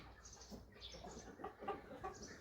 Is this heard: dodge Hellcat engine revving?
no